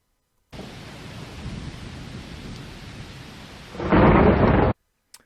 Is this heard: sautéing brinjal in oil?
no